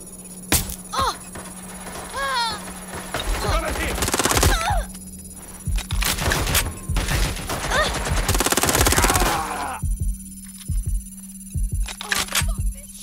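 Gunfire rattles in the video game Watch Dogs Legion: repeated bursts of shots and sharp single cracks, loud and close, with an electronic tone running underneath and a voice speaking among the shots.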